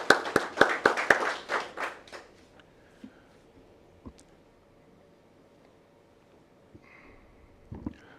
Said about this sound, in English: if we could give them a round of applause for all the hard work that they've done